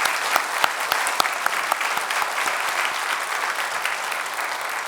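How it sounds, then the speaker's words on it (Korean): A church congregation at a Sunday worship service claps together to welcome a missionary, a dense, even burst of applause with a few sharper individual claps standing out near the start before settling into a steady roar. "박수로 다시 한번 환영하겠습니다"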